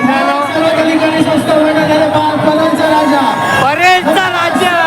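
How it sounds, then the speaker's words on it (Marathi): A dense crowd gathers in Mumbai for the Parel cha Raja Ganpati idol arrival, with loud, continuous babble, shouts and whoops close by throughout. "परेलचा राजा आता येतच आहे आणि इथे ही गर्दी चेक करा"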